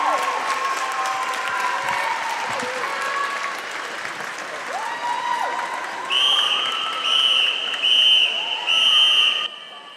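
A crowd at a county swimming championship swim-off applauds and cheers loudly and steadily in a large echoing pool hall, with repeated shrill whistle blasts sounding in bursts through the second half.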